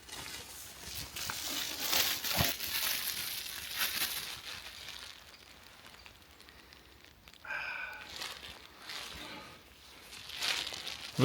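A small plastic bag holding freshly gathered forest mushrooms crinkles and rustles close by in uneven bursts, louder crackles early on, quieter handling later, with no talk.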